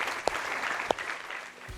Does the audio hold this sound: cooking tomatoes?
no